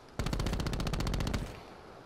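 Gunfire in Call of Duty Black Ops 4 Search & Destroy: a single loud, close burst of about fifteen rapid automatic shots that stops abruptly and leaves a short fading tail.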